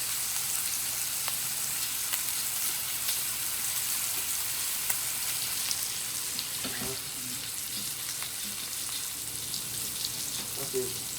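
Bacon frying in a pan gives a steady, faint crackling sizzle throughout, with a few sharper pops and clinks of stirring near the end.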